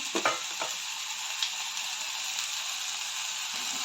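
Banana flower sizzles steadily in hot oil with potatoes, a bright even crackle at moderate volume, broken by a few soft stirring clatters near the start.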